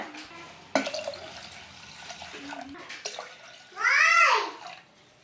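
Water poured from a glass into a pressure cooker for sweet pongal, a brief gushing splash near the end after quieter kitchen clatter and a few small drips.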